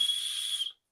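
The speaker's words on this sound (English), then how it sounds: "I just realised my bracelet has a whistle." A small whistle on a bracelet gives one steady, thin, high blow lasting under a second and then stops, fairly quiet and heard alone.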